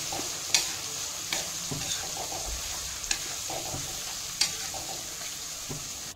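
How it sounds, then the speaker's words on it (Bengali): Onion, ginger and garlic paste sizzles steadily in a pan while being stirred, with a few sharp scraping clicks of the spoon spaced through the continuous frying hiss. "দিয়ে মশলাটা ভালোভাবে আমি একটু নেড়ে চেড়ে ভালোভাবে ভেজে নেব"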